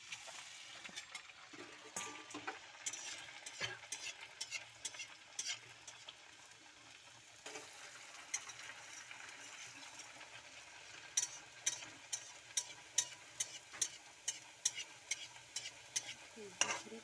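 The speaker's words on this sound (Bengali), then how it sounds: "বাকিগুলোও ভেজে নেব।" Sago puri (luchi) frying in hot oil, a steady soft sizzle with frequent sharp crackles and pops, close by and with no one speaking.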